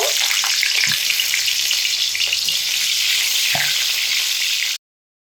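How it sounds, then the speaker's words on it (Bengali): Pieces of raw banana fry in hot oil for shukto, a dense, loud, close sizzle running steadily with a few faint stirring taps before it cuts off abruptly. "তেলের মধ্যে কলার পিসগুলো দিয়ে মোটামুটি মিনিট আড়াই সময় ধরে কলাগুলোকে ভেজে নিয়েছি"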